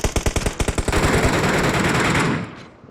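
Automatic gunfire in PUBG plays as a rapid, evenly spaced string of loud shots that merges into a continuous roaring burst, then fades at the end.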